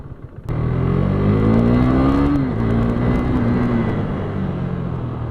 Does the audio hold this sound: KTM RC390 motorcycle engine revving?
yes